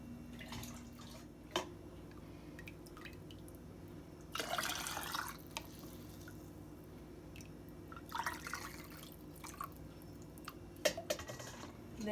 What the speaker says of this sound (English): you just want to fill it up until it's about a ½ inch from the top of the jar, and go ahead and do that with all the jars